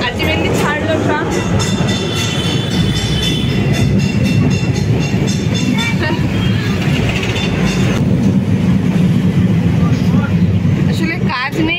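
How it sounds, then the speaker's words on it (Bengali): A Kolkata heritage tram on route 5 pulls away and keeps running, with a steady close rumble of wheels and a rhythmic rail clatter throughout, and voices talking faintly under the noise. "আলটিমেটলি ছাড়লো ট্রাম।"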